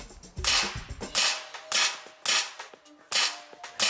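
Evanix Conquest semi-auto PCP air rifle shots during a shots-per-fill test: six sharp, loud cracks spaced roughly half a second to a second apart, each with a brief metallic mechanical clack, close by and without talk.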